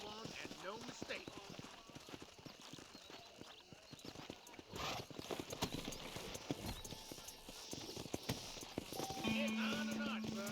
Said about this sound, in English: This steed looks right tetchy, I don't mind telling.